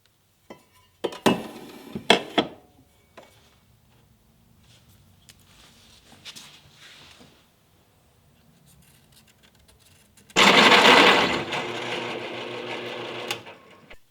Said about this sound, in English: I got my holes drilled